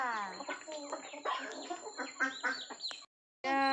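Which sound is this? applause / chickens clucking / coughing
chickens clucking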